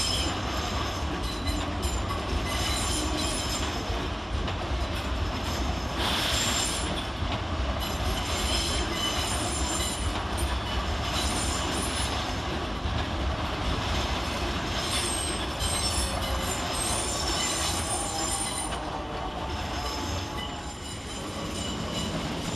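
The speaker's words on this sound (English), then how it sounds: "One in, one out now with the departure of 455-919 and 455-733 and the arrival of 450-031 and 450-014." Southwestern Railway electric trains arriving and departing at London Waterloo station, a continuous loud rumble of rolling stock with wheel squeal and rhythmic clatter over points, no voices over it.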